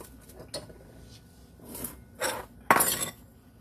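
An egg is mixed into a sugar and buttermilk pie filling. A utensil scrapes and taps against a bowl in a few short rubbing strokes, ending in a sharper clink, close and moderately loud.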